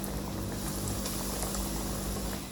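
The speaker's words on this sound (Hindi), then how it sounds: "घी मैंने गरम कर लिया, अब मैं इसके अंदर एक एक पीस करके ऐसे रख दूंगी" Chicken donut pieces fry in hot ghee over a low flame, a dense, steady crackling sizzle that stays even and close.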